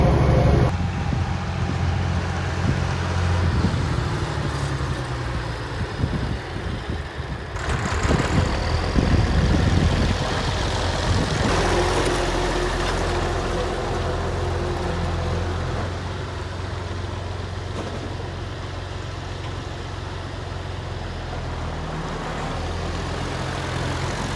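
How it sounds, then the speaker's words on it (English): An old Massey Ferguson 1105 tractor, long abandoned, idles steadily with a deep, continuous engine rumble, close and loud throughout, with no talking over it. "Oh, that sounds nice. This is a good sounding old motor."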